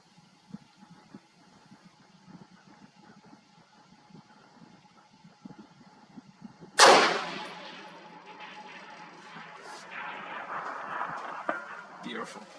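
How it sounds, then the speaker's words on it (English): A Stag Arms semi-auto 6.5 Creedmoor rifle fires one sharp, loud shot partway through at a long-range outdoor shoot. The crack rolls off into a long fading echo over quiet ambient noise. "And then 6 shots in sequence without misses."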